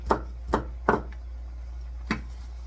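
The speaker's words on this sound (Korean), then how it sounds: "빨갛게 익은 거 하나만 쫑쫑 썰어서 넣을 거예요." A knife chops a single ripe red Cheongyang chili pepper on a cutting board, giving four sharp, separate taps over a low steady hum, with no talk.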